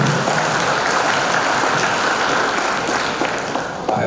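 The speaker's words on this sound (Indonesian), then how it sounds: "Mari kita beri tepuk tangan." Audience applause at the opening ceremony of a retail industry event in Indonesia, a dense, steady wash of clapping that holds at an even level before easing slightly at the end.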